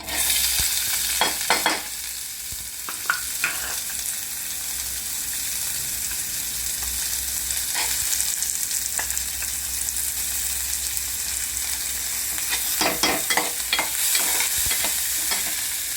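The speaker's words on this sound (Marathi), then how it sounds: "जे कांदा कापलेला आहे तो कांदा प्रथम ह्याच्यामध्ये टाकणार आहोत" Chopped onion fries in a pan on a gas stove, a loud, steady sizzle with intermittent scraping strokes as it is stirred, heard alone without talking.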